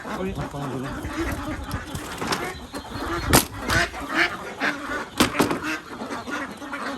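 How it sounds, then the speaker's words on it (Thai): Khaki Campbell laying-age ducks quack in a dense, overlapping chorus at close range, with a few louder honking calls standing out and someone talking over the flock throughout. "เป็ดกากีแคมเบลนะครับ สาวพร้อมไข่นะครับ"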